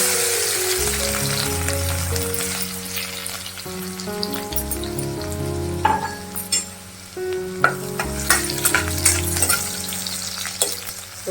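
Mustard seeds and garlic frying in oil for methi sabji, a loud close sizzle with popping crackles and spatters, and a spoon stirring and scraping the pan, no talk.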